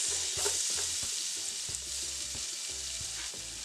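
Onions sizzle in melted butter in a pan, a soft, steady close fry broken by repeated light spoon knocks and stirs.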